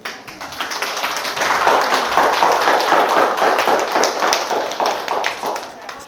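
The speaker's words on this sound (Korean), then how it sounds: "강사님을 박수로 맞이하겠습니다." Audience applause at a Saturday history lecture in a memorial hall, greeting the lecturer: dense, steady clapping from many hands that swells after the first second and holds loud throughout.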